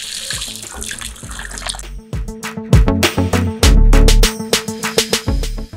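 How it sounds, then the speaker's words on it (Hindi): Water gushing loudly and close from the drain valve of a 400 L MITRA Airotec mist blower sprayer tank used for grapes, a splashing, gurgling stream with irregular surges and bursts. "चार सौ लीटर में हमने पानी ड्रेन करने के लिए ड्रेन वॉल दिया हुआ है"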